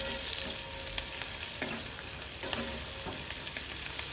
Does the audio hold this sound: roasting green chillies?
yes